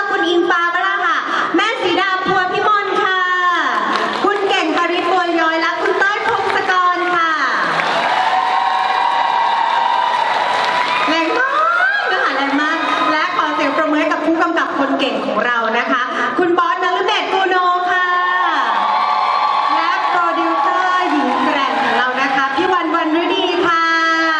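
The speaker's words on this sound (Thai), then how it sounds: "ขอเสียงปรบมือดังๆอีกครั้ง" A live audience at the GDH Lineup 2025 film event in Thailand cheers, shrieks and applauds continuously and loudly, with excited voices rising over the noise throughout.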